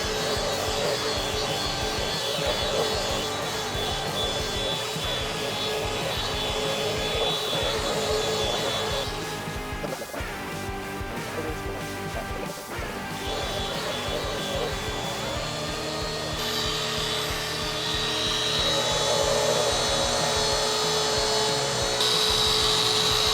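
A Bosch 6-inch random orbit sander whirs with a loud, high-pitched continuous whine, dipping briefly partway through before spinning back up, close to the listener and with no speech.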